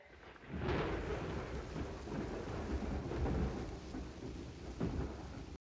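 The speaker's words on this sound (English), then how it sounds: "this and the sound of that thunderstorm" Heavy rain falls steadily while a deep thunderstorm rumble rolls through, loud and enveloping, with a sharper crack near the end before the sound cuts off.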